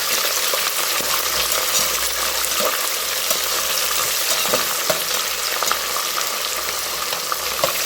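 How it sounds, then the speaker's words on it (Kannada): Food frying in a mix of oil and ghee in a home kitchen, a steady, close sizzle with crackles and occasional stirring clinks running through the whole stretch, no voices. "ಈಗ ಒಂದು ಸ್ವಲ್ಪ ಹೊತ್ತು ಇದು ಎಣ್ಣೆಯಲ್ಲಿ ತುಪ್ಪದಲ್ಲಿ ಫ್ರೈ ಆಗುತ್ತೆ."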